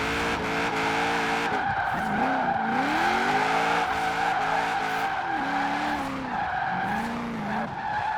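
Nissan 240SX drift build in Forza Horizon 4 sliding through a corner, its engine note rising and falling under continuous loud tire squeal and skidding, close and steady throughout with no talk.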